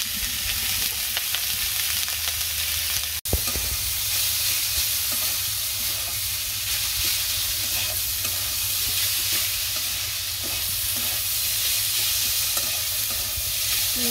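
Eggplant sautés in a pan with salt, turmeric and chilli, a constant loud sizzle of frying with soft stirring scrapes and one sharp knock early on.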